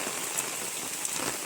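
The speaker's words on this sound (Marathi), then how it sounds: "कसा मस्त आहे की पाऊस पडता येतो" Rain falls in a steady, close hiss with a few brighter drop ticks, heard on its own.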